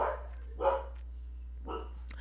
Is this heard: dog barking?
yes